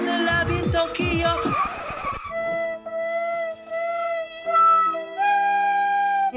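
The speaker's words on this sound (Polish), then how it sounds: "Dobra, spróbujmy przejechać patelnię bokiem." A Tesla Model S Plaid slides sideways around a skidpad, its tires squealing loudly in sweeping, wavering wails at first, then settling into long, sustained screeches that rise and fall in pitch.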